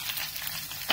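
Turmeric, coriander and chilli powder sizzle and fry in a pan as they are stirred, giving a close, steady crackle with a brief scrape of the spoon at the end.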